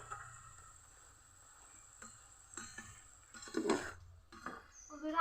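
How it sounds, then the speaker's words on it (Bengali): Peanuts fry slowly in a pan for masala peanuts, giving a faint, quiet sizzle with occasional scraping and stirring clatters toward the end. "এভাবে সময় নিয়ে অল্প অল্প আছে ভেজে নিতে হবে তাহলে কিন্তু ভেতরের বাদামটা সহ ভালো করে মুচমুচে ভাজা হবে"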